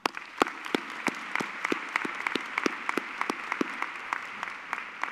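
At a high school graduation, a smaller group claps with distinct, separate hand strikes in an uneven rhythm, fairly close and moderately quiet, continuing steadily throughout.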